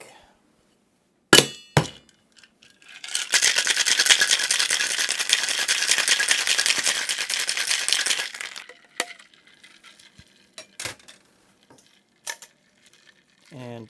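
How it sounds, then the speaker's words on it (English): A cocktail shaker full of ice rattles hard for about five seconds while a Dubonnet cocktail is mixed, preceded and followed by sharp clinks of glass and bar tools in a quiet room. "And the last one gets a shake."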